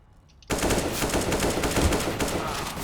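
Sustained automatic AK rifle fire in the CS:GO video game bursts in loudly after a brief quiet moment and continues as a dense, rapid stream of shots to the end.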